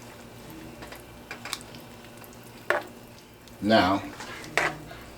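Spoon mixing spaghetti seasoning into Italian sausage pasta in a pot: a few short scraping clinks, with the loudest cluster near the end over a quiet kitchen background, and a brief spoken word.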